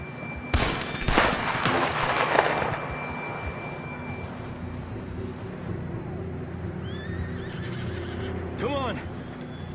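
Horse whinnying in Red Dead Redemption 2 gameplay, one loud drawn-out neigh near the start followed by a quieter trailing whinny later, under low game ambience and background voices.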